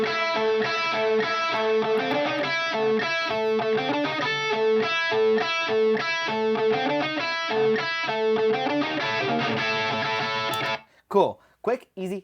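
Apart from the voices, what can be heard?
lead electric guitar riff played in Pro Tools session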